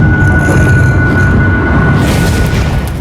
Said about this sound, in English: the explosions are getting more frequent, until eventually one bursts into the area